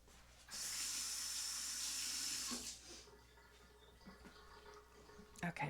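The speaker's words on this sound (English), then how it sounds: "let me rinse my hands" Hands being rinsed under a running kitchen tap while baking cookies: a close, hissing stream of water for about two seconds, then quieter dripping and handling sounds, with soft speech near the end.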